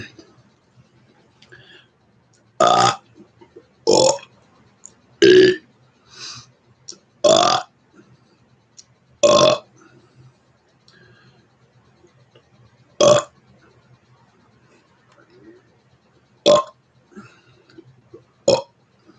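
A man burps the numbers one through ten in Spanish, a string of about nine loud, separate belches with short pauses between them, each one voiced and close to the microphone.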